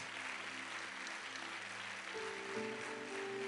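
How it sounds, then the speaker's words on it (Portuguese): Church congregation applauding, a steady wash of many hands clapping throughout, with faint sustained organ or keyboard tones underneath. "Eu queria que a igreja aplaudisse ao Senhor por a vida desses homens"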